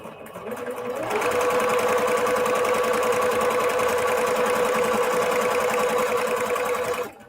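Sewing machine stitching small pieces of quilting fabric, running in one steady, continuous whirring burst for about six seconds after a brief start, close and loud with no talk.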